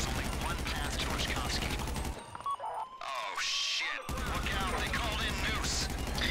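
Gunfire crackles through a Grand Theft Auto V Online session, with busy mechanical shots and clatter under a talking voice, broken by a brief quieter stretch midway before the noise returns.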